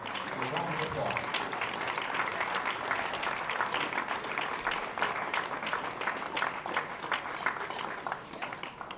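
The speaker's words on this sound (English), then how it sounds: "Please give our seniors and their parents a round of applause." Crowd applause at a high school baseball senior day, steady clapping from spectators in the stands, with a voice talking over it outdoors.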